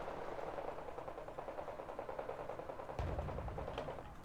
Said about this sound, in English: It's just a machine gun fight too.